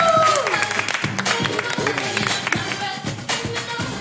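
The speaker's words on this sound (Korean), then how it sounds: "샤이니의 춤신춘아 태민 박수 한번 주세요." A studio audience applauds SHINee member Taemin, a dense, steady wash of clapping and crowd noise with a faint rhythmic tapping running through it, holding at a fairly loud level for the whole stretch.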